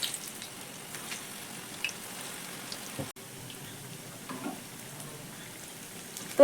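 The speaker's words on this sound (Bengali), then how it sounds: "এইভাবে তেলের হিট রেখে একে একে আমি স্ন্যাক্সগুলো তেলের মধ্যে ছেড়ে দিচ্ছি" Puffed rice fritter snacks dropped one by one into oil on medium heat, frying with a steady soft sizzle and light crackle throughout, fairly quiet and close, with no talk.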